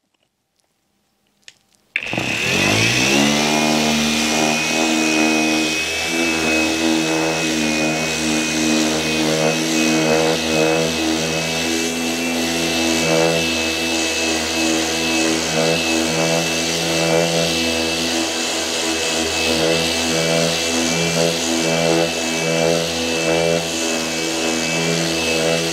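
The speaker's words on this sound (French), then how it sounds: "Je pose la machine, je déclenche." An Einhell TP RS 18/32 cordless random orbital sander kicks on after a few quiet clicks and runs loud and steady with a whirring motor whine and grinding buzz against the surface, unbroken by talk.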